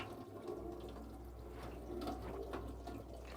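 Hot water runs steadily from the pressurized sink tap of an Auto-Trail Frontier Delaware motorhome, a faint continuous splashing hiss with small fluctuations, heard alone without talk.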